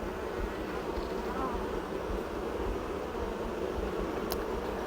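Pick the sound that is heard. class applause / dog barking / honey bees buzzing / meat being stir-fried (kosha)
honey bees buzzing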